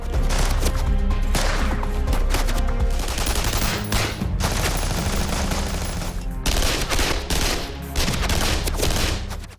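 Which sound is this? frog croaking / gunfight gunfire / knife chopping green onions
gunfight gunfire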